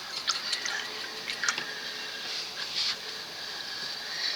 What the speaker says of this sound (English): And I'm going to wash my brush off.